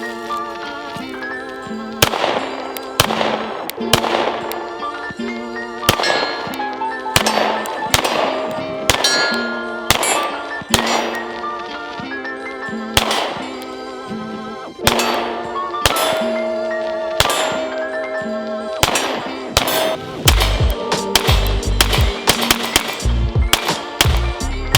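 Sharp, loud pistol shots from a Sig Sauer Macro at a shooting range, firing in rapid strings with brief pauses between bursts and metallic clangs near the end.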